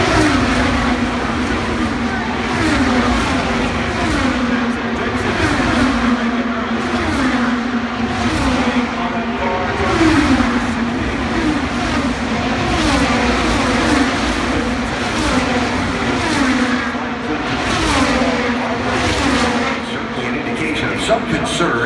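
Race cars at the Indianapolis 500, among them Dixon's PNC Bank Chip Ganassi car with a vibrating rear wing, roar steadily through a corner. The engine drone holds loud and continuous, with a commentator talking over it.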